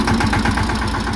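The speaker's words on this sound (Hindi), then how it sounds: "भाई अभी स्टार्ट हो चुका है ट्रैक्टर" A Swaraj 717 15 HP tractor engine idles just after starting, giving a close, steady, rhythmic chugging throb with no voices.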